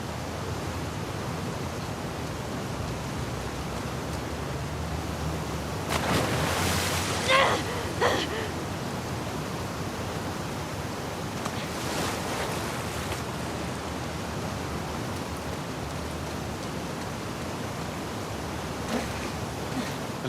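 Ocean waves in the video game The Last of Us Part 2, during a swim toward an aquarium: a steady, full wash of surf with a couple of louder surges crashing in midway, continuous and close.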